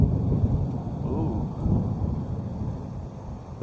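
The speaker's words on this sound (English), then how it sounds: "the rain is right here" Low rumbling thunder rolls steadily beneath steady rain noise outdoors on a patio as a rainstorm approaches, with a continuous dense wash of sound throughout.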